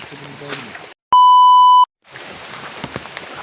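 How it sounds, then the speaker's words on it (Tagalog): Steady rain hisses across an outdoor survival campsite, with a constant broadband wash interrupted midway by a loud, sustained electronic beep and a brief silence on either side of it. "Hindi tayo pwedeng magtagal, baka lalong lumakas yung ulan."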